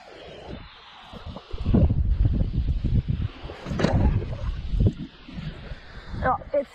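Gusty wind buffets the microphone outdoors while a kite is flown, with loud, uneven roaring surges and rustling, and someone speaking over it.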